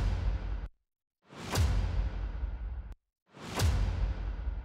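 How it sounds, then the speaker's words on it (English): Two cinematic hits, each a rising whoosh swelling into a sharp impact with a long decaying tail, separated by brief silence. "Now, the whoosh in front is optional, I guess."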